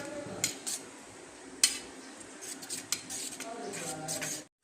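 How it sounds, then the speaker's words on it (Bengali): Spice paste being stirred with water in a bowl in a home kitchen, a spoon scraping and clinking against the bowl in light repeated strokes, close and fairly quiet, ending abruptly. "মশলাটা আমি জল দিয়ে এভাবে গুলে নিচ্ছি।"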